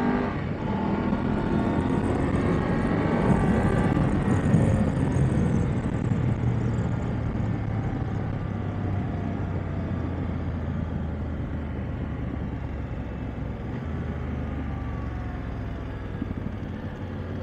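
A BMW F850GS motorcycle, a non-boxer engine, rumbling steadily while being ridden, a loud, continuous low drone mixed with wind rush that holds level throughout.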